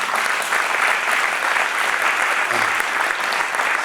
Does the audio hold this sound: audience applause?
yes